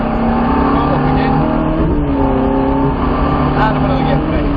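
A Ferrari 430 engine pulls hard through the gears on a track, a loud, steady, close roar with rising harmonic tones that dip briefly at each shift, with a voice talking over it.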